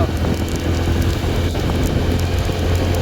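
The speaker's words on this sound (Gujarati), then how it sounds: "ભાઈ લોકો વરસાદ બહુ આજ આવી ગયો છે" Steady rain hisses across the whole clip, a dense broadband wash with low rumble, fairly loud and continuous, with no voices.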